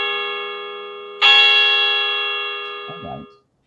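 A single bell chime strikes loudly and rings with a long, slowly fading sustained tone over a steady hum, cut off as a brief low vocal sound appears near the end.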